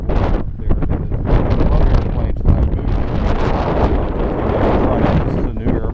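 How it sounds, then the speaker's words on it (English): Strong gusting wind at Austin Executive Airport buffets the microphone with a loud, continuous low roar and rushing noise that never lets up. "the wind is getting stronger"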